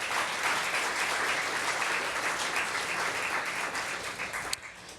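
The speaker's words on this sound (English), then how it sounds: "Let's give a round of applause for them." Audience at a design competition awards event applauding a winning student team, a steady dense wash of clapping that holds evenly for several seconds before tapering off near the end.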